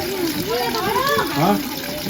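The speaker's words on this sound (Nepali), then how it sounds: "धारा यहाँ राम्रो आइरहेको पानी आएको धारा" Water gushes steadily from stone spouts in Bandipur, Nepal, in a continuous splashing rush while voices talk over it.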